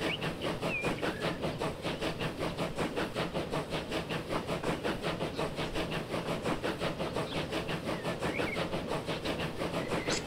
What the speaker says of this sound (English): But we can ride the train for a bit here.